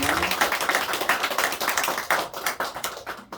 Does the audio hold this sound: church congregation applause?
yes